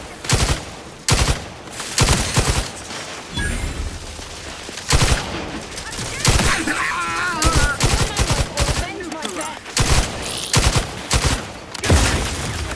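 Bursts of heavy gunfire in the video game Outer Worlds 2 pound repeatedly throughout, loud and close, with short gaps between volleys and some game voices in between.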